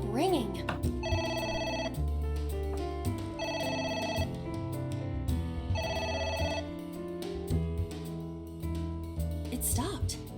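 A telephone rings in a video game as a repeated electronic bell in regular bursts over about ten seconds, set against game music, with people talking over it.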